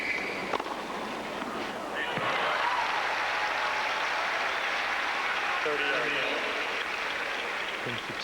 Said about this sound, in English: the crowd came out, really giving Federer a big round of applause